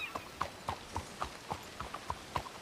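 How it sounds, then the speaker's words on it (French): Turkoman horse hooves clip-clop at a steady walking rhythm, about four sharp knocks per second on a hard surface, fairly quiet and with no talking. "C'est quoi comme cheval? C'est un turcoman."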